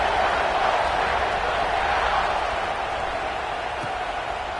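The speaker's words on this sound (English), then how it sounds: "this crowd is buzzing after that last score" A football stadium crowd buzzes after a score, a steady, dense roar of many distant voices that holds at an even level throughout.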